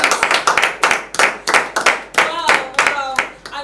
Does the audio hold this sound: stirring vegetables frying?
no